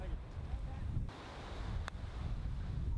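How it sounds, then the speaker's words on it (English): Wind gusts across an open golf course at The Vintage Golf Club, buffeting the microphone in a continuous low rumbling roar with brief dips, and faint voices are partly buried beneath it. "the wind was definitely going a bit"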